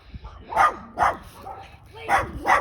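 A dog barking in an overgrown yard during a cleanup, four or five sharp barks and yips in an irregular rhythm, close and clear, with a faint whimper between them.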